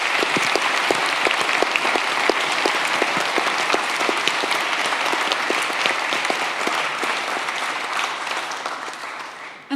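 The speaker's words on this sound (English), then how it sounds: "Round of applause for Richard." An audience at a summit in Utrecht applauds a speaker, steady dense clapping that fills the room at full strength for several seconds before fading slightly at the end.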